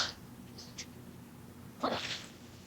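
A person gives a single sharp sneeze near the end, preceded by a small breath and faint sniffing sounds in an otherwise quiet indoor room.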